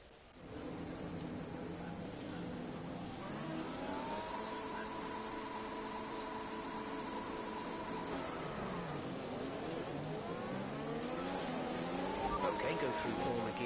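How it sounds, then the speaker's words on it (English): Race car engine in a racing video game, a steady mid-pitched drone with rising and falling revs through gear changes, continuous across the stretch with team radio talk layered over it. "We need to keep the engine cool, though, so don't go too high with the revs."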